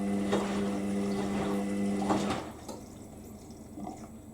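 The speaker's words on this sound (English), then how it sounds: "Bit of gurgling." An Indesit IWME146 integrated washing machine on its SpecialSport programme gurgles and trickles water inside, with a low steady hum under the churning, which fades to quieter drips near the end.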